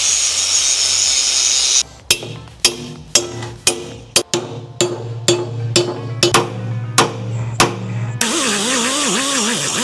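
An angle grinder whines against a steel undercarriage roller part on a machine, hissing harshly at the start and end, with a run of sharp metallic knocks at a steady rhythm in between.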